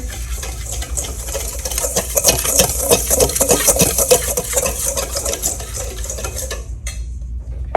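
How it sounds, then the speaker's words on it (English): Dry black pepper, parsley flakes and Old Bay seasoning whisked together in a bowl, a steady brisk scraping and clinking of the whisk that runs for several seconds and stops abruptly near the end. "And we're just gonna whisk those together."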